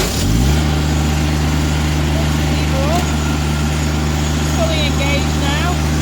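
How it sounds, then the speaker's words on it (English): A John Deere X754 lawn tractor engine cranks and catches, then settles into a steady, loud idle with a low rumbling drone that holds for several seconds, close by. "So what I'll do is start the engine up."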